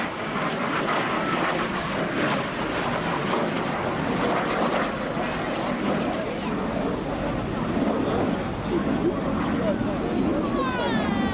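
An Aero L-39 Albatros jet with a single Ivchenko turbofan flies a display at an air show, a loud, broad continuous roar that swells and sustains, heard outdoors from the crowd line.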